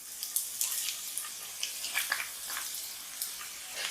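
Two sliced onions sauté in a hot pan while a fish roast is being prepared, a steady bright sizzle dotted with small crackling pops, close and moderately loud.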